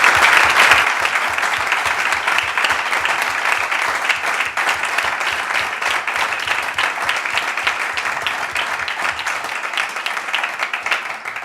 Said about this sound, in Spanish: Y quiero pediros a todos un aplauso para las mujeres de Unidos Podemos y las confluencias.